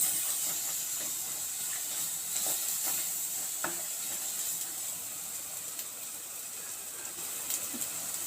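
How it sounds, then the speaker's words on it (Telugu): A pan sizzles and hisses steadily as salt and turmeric fry in it, a close, even frying sound with faint stirring clicks throughout and no voices. "కొంచెం పసుపు, బాగా వేయించుకోవాలి."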